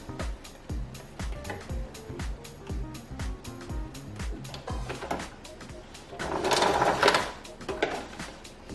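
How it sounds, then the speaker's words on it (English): Sewing machine stitching a binding onto knit fabric, rapid rhythmic needle clatter in bursts with brief pauses, close and moderately loud, with a louder rustle of handled fabric near the end. "I just sew along 1 centimetre from the edge."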